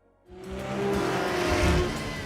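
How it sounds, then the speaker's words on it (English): A race car at the 24 Hours of Daytona endurance race roars past at high speed, its engine note rising from a quiet start into a loud, sustained howl that swells and holds for a couple of seconds. "A car screams around the track at breakneck speed"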